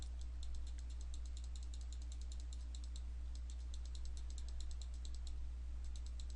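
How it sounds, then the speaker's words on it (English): A computer mouse clicks rapidly in quick bursts while a photo is edited in Photoshop, faint and close over a steady low electrical hum, with no talking. "I am just clicking like a madman"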